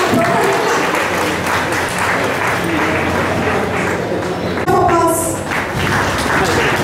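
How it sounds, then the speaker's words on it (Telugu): Clapping at a chamber of commerce Independence Day celebration in Jagtial: a sustained crowd applause, fairly loud and steady throughout, with a brief clatter partway through. "క్లాప్స్ అండి"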